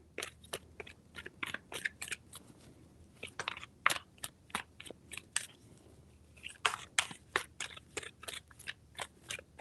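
Tarot cards shuffled by hand in three rounds of quick, crisp riffling bursts, close and fairly loud, with short pauses between the sharp flutters and no talking.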